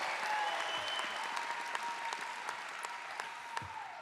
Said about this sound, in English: Let's give it a round of applause for our SGA president.